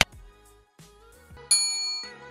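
Notification bell ding sounding a few times, with sharp bright strikes that ring out in tonal decays. A louder chime near the end leaves a long shimmering tail. No voices.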